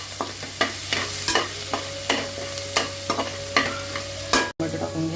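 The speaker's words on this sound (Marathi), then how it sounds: "हे सगळं चांगलं परतून घ्यायचं आहे आपल्याला." Garlic, ginger and chili sautéing in ghee with cumin for dal khichadi, a constant sizzle under rhythmic spatula scrapes and taps against the pan, close by.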